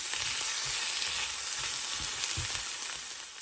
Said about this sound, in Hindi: यहाँ पर हम प्याज को हल्का सा फ्राई कर रहे हैं, बस इसमें कलर आ जाए थोड़ा सा